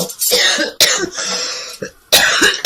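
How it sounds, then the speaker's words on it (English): Repeated harsh, wet coughs in close succession, loud and near, forming a lingering coughing fit. "I'm so sorry about this cough."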